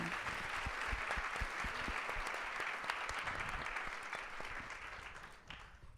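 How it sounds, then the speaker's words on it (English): A large audience at a Celebrating Women of the Movement event breaks into sustained, dense applause that fills the room, easing off slightly toward the end. "So can we just give them yet again a round of applause?"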